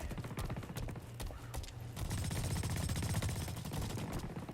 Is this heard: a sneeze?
no